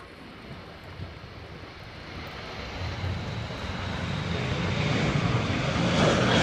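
A KC-135 aircraft passes overhead with a broad engine roar that grows steadily from a distant rush to a loud, close drone.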